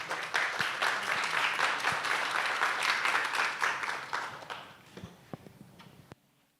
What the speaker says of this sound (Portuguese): Recebamos com palmas as nossas autoras dessa tarde